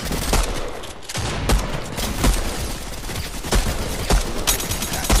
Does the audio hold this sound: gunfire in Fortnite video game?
yes